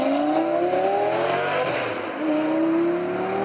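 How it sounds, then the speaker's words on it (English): Lamborghini 5.2-litre V10 engine revving steadily with an even-firing drone, rising and falling in pitch, loud and close throughout with a brief dip midway before climbing again. "that even firing V10"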